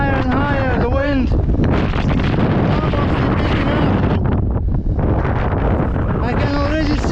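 Strong, steady wind buffets the microphone high on an exposed, fog-covered mountain ridge in North Wales, a loud continuous roar with gusty surges and a hiker's voice faintly audible beneath it.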